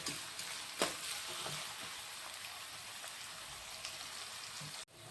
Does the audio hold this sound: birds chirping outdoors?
no